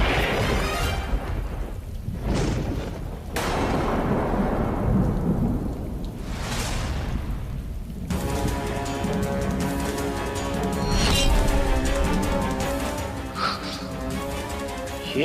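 Steady heavy rain pours down in a mythological drama scene of an ominous blood rain, with deep thunder rumbling and cracking over the downpour throughout, and no one speaking.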